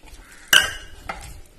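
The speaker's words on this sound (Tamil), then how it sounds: "இப்போ ஆனியனையும் ஆட் பண்ணி மிக்ஸ் பண்ணிக்கோங்க." Onion mixed into paneer tikka marinade in a bowl makes one sharp clink of a utensil against the bowl, then a fainter knock, with soft mixing sounds around them and no talk.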